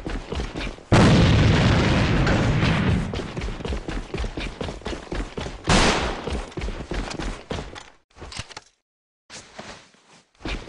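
Grenade blast in the online shooter AVA: a loud, close boom opens a long stretch of dense, rumbling gunfire and explosions, then a second heavy burst, with the sound cutting out into near silence near the end.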